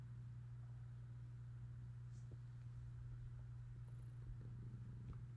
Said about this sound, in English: my cat's trying to climb on my computer for some reason